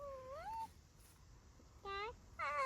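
A house cat meows three times in a kitchen, each call a rising and falling wail, near and clear, with quiet gaps between.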